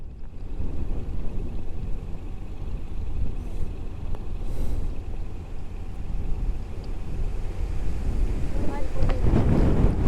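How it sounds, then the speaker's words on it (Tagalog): Strong wind roars and buffets the microphone continuously at a coastal view deck by a lighthouse overlooking the Pacific, with surf or water churning underneath and a brief voice near the end. "Lakas sa hangin."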